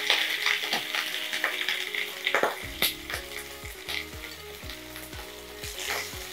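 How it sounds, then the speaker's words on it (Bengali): Chicken frying in a kadai with salt and chilli powder, a close sizzle broken by repeated scraping stirs of a spoon against the pan, with no voices. "সব একসাথে একটু ভাজা ভাজা করে নিচ্ছি।"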